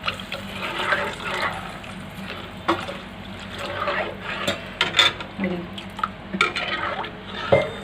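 Water is poured into a pot of kadhi made with dal and yogurt while it cooks, giving soft intermittent splashes, trickles and light clinks of a utensil, fairly faint and close.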